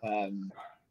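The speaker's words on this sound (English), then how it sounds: "Do apologise for the dog suddenly going off into a blind panic." A dog barking in a sudden panic, one short loud harmonic bark followed by a quieter yelp, close by in an indoor room.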